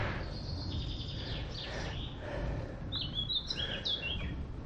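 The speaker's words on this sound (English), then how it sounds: "Birds." Birds chirp and tweet along a quiet English country lane crossed by bicycle near Salisbury Plain, with high trilling calls scattered over a steady low rumble of wind or road noise, fairly faint and distant, no talk.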